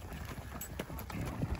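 An Arabian horse walks across the desert, its hooves clip-clopping in a steady, moderately close rhythm of soft thuds over a light background hiss.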